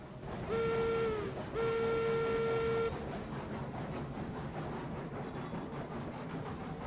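Two long steam whistle blasts sound, followed by the rhythmic chuffing of a departing freight train building steadily, with a simulated game quality, from Railroads Online.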